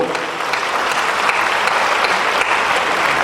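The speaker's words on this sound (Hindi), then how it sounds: "एक बार मेरे सम्मान में ढंग से ताली बजाओ" Hearty applause from the audience at a poetry gathering, a thick, even wash of clapping that carries steadily for a few seconds.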